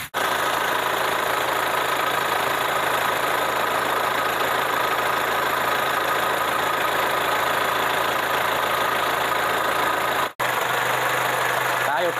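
A 1997 Isuzu Panther Royal engine idles close by with a steady, loud, even drone that runs for about twelve seconds, broken by one very brief dropout near the end.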